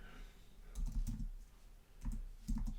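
Typing on a computer keyboard, heard as soft, close key clicks in two short clusters with a brief gap between them, over a quiet background hum.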